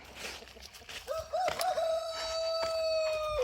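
A rooster crows once, clear and fairly close, in a backyard where chickens are let out to free range. The long held call rises and then fades out, with some faint clucking and rustling before it.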